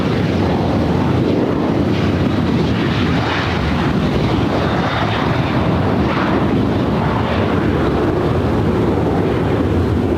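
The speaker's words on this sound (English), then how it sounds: "Also have American Airlines flight 167 coming in from Miami, a 777-300ER." An American Airlines Boeing 777-300ER arriving at LAX from Miami gives a loud, continuous jet roar that stays constant throughout, with buffeting wind noise on the microphone.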